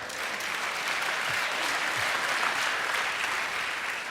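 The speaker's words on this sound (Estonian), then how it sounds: "Vara plaksutad." A crowd applauds steadily for several seconds: dense, even clapping with a full sound and no voices on top.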